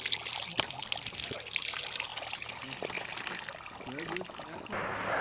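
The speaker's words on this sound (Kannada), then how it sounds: "ಕೈ ತೊಳೆದು ಮುಖ ತೊಳೆದು ನೀರು ಕುಡಿಯೋಣ." Water pours and trickles steadily nearby as hands and face are washed, a continuous splashing flow with faint voices in the background.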